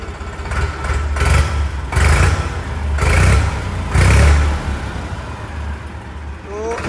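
A Farmtrac Hero tractor's diesel engine runs close by, its low rumble swelling in four regular surges like throttle blips over a steady idle, with no talk.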